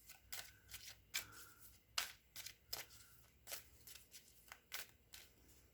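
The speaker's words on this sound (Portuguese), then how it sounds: "Vou tirar as cartas" Tarot cards are drawn and handled in a quiet room, giving soft, close, irregular flicks and rustles with short pauses between them.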